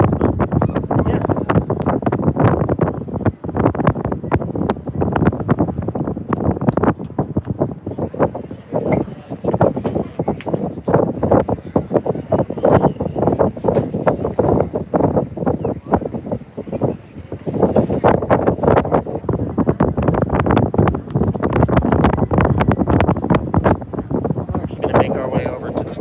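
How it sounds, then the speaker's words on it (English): Strong, steady wind buffets the microphone in loud gusty roars on the balcony of the Disney Fantasy cruise ship heading out to sea, with someone talking intermittently beneath the rushing air. "Forget how windy it gets when we start moving."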